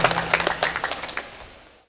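Applause at a church inauguration in Padang: a short burst of many hands clapping that quickly thins and fades to silence within two seconds.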